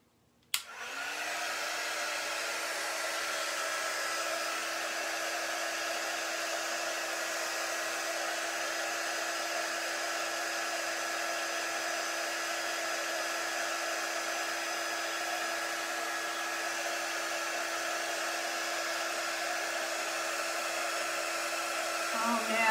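Hair dryer blowing steadily to dry scarlet chalk paint on a wooden reindeer sleigh craft, a continuous close whoosh that switches on with a click and runs unbroken, with a high motor whine.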